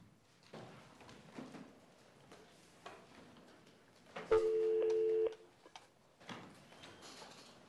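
A telephone call being placed during a court hearing, with quiet clicks and handling noises around a steady electronic tone lasting about a second, faint background room sound.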